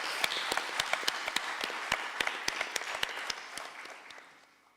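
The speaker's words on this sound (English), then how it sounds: "Let's give a round of applause for Mr. Vishwanathan." A small crowd at an Indian classical dance debut recital applauds, with individual claps distinct and steady, tapering off gradually toward the end.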